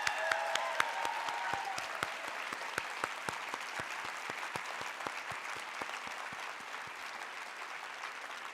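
An audience at a presidential gun-safety forum applauds steadily, a dense even clapping that holds at a moderate level for several seconds without cheers.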